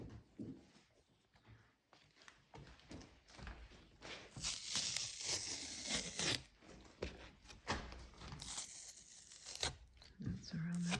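Poplar bark torn by hand into strips for weaving a chair seat: repeated close ripping and crinkling rasps, loudest in the middle, with people talking over parts of it.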